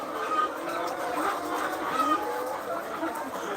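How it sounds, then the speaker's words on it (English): Hens in a flock of layer birds over 100 weeks old cluck and chatter continuously on a poultry farm, with scattered short calls over a steady background din and some talk mixed in. "These chickens, they are making very funny noise."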